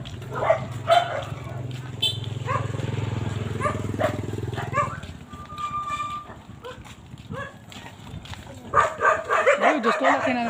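A large dog barks a few times among other sounds, with a boom truck engine rumbling early on and people talking nearby at a house blessing in Bocaue, Bulacan; the barking grows busier toward the end.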